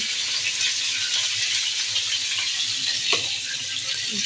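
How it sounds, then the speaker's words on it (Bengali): Meat frying in a pan during home cooking, a steady broad sizzle holding close and even throughout, with a brief clink of utensil near the middle and no voices. "মাংসগুলো ভেজে নিচ্ছি"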